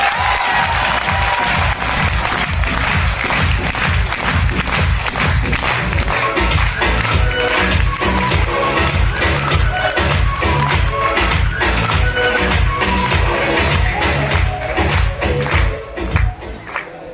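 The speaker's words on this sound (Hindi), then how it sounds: "तालियां बज रही तो जरा अच्छे से बजे तो मजा आएगा" Seminar audience in Agra breaks into sustained loud applause, dense clapping from a large crowd filling the hall without pause, with scattered cheers and thumps before it thins near the end.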